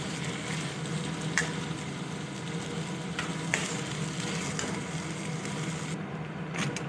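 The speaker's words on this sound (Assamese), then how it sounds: "আৰু এইদৰে ভাজি লৈছোঁ গুড়ৰ পাকটো উঠিবৰ কাৰণে" Jaggery frying in a pan while cooking Assamese tengamora guti jelly: a steady close sizzle with light stirring scrapes and occasional clicks, with no talk.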